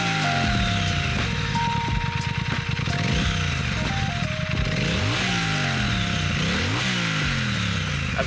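A Triumph Speed Twin 1200 motorcycle engine and exhaust rumble loudly and continuously nearby, with the revs rising and falling several times.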